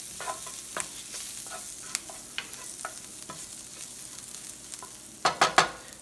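Onions sizzle and brown in a pan under a low steady fry, broken by scattered sharp clicks and clatters of stirring, with a burst of louder scraping knocks near the end.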